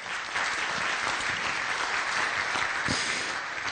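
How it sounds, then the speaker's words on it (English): Audience at a community forum applauding, a dense, even burst of clapping from many hands that holds steady for a few seconds without voices. "Can you please give Laura another round of applause?"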